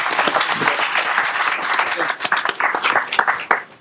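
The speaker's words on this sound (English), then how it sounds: "If we could just give a round of applause for these guys and Fidelity." Audience applause at a real estate seminar, a dense steady wash of many hands clapping with scattered sharper claps, loud and close, tapering slightly near the end.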